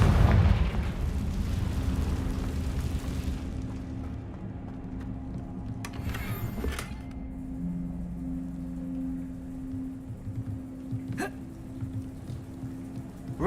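Confringo blasting-spell explosions in Hogwarts Legacy, a heavy rumbling boom at the start settling into a low hum, with a couple of sharper crackling bursts later on.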